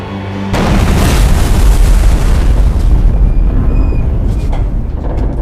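A torpedo explosion in a war film hits with a sudden, heavy boom after a brief quiet. It rolls into a loud, sustained roar that slowly thins over several seconds.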